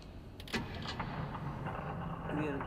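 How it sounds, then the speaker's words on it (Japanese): An engine runs in the video game INSIDE, a steady low mechanical rumble with a few sharp clanks on top and faint voices underneath. "またエンジンだね。"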